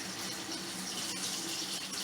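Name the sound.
running lukewarm tap water while washing an orange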